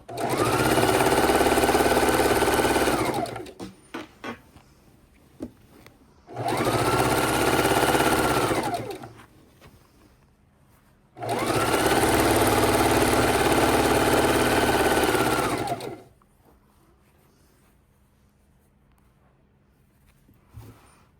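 A sewing machine stitches large quilt pieces together in three loud, steady bursts of rapid whirring, each lasting a few seconds, separated by pauses with faint handling noises.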